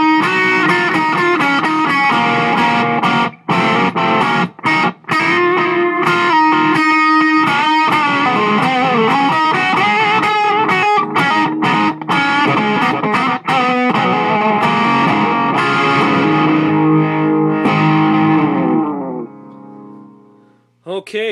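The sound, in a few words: guitar played through Ibanez DE7 delay/echo pedal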